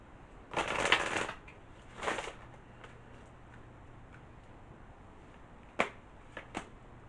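Sacred Power tarot reading cards being shuffled in two rustling bursts, followed by a few sharp, separate card snaps and taps at close range with no voice.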